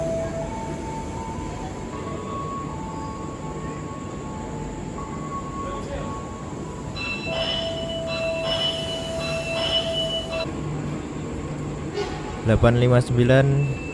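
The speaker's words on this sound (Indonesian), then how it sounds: "Ini keberangkatan KRL terakhir dari kota Solo menuju ke kota Yogyakarta" An electric commuter train departing Solo Jebres station rumbles steadily with tonal motor whine rising as it pulls away, then metallic squeals and clanks near the end.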